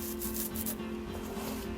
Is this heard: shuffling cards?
no